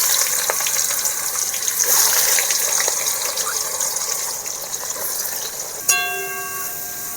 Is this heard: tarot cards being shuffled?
no